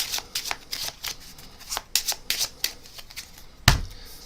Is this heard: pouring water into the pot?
no